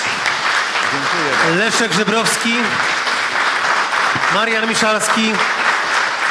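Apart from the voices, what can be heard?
audience applause at a book premiere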